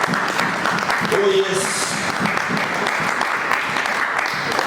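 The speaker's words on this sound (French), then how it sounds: "on acclame le Seigneur de gloire" A church congregation applauds the Lord, dense clapping filling the room throughout, with a voice briefly calling out over it.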